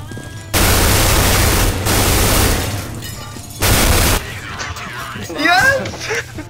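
Gunfire in the Counter-Strike video game: two loud, dense sustained bursts of automatic fire, a longer one early and a shorter one later, with voices talking over and between them.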